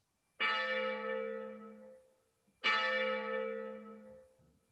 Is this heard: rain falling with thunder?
no